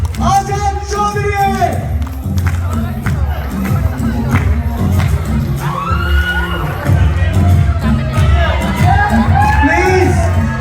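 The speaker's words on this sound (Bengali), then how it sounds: "প্লিজ সবাই করতালির মাধ্যমে পার্টিসিপেন্টদেরকে উৎসাহ প্রদান করি প্লিজ" Crowd at a Chandpur society get-together cheering and shouting continuously, children's high voices rising above steady clapping and babble throughout, loud and close.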